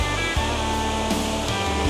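A small waterfall of about 10 to 12 feet at Falling Creek Falls near Lake City, Florida, gives a steady, even rush of falling water close by with no voices over it.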